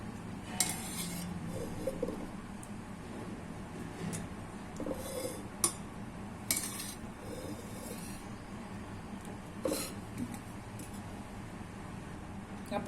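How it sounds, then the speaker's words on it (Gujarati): Long bean and potato curry being served from a pot into a dish, with quiet metallic scrapes and clinks of a spoon at irregular intervals over a low background hum. "હવે આપણે વાસણમાં કાઢી લેશું સર્વ કરવા માટે"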